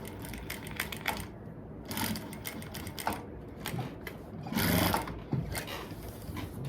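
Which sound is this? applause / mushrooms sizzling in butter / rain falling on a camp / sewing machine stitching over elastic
sewing machine stitching over elastic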